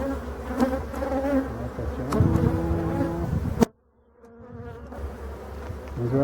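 Agitated honeybees swarm over a crowded, very populous hive in a dense, continuous buzz with sharp clicks and knocks from the frames; the sound cuts out abruptly for a moment, then the buzzing fades back in.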